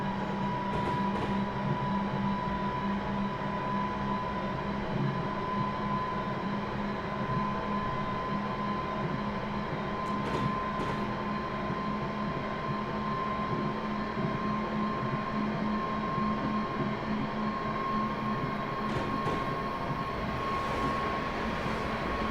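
A Class 350 electric multiple unit runs in Train Simulator 2017 between Birmingham New Street and Euston, giving a steady cab-interior rumble with a constant motor hum and occasional soft clunks over a long, even stretch with no talking.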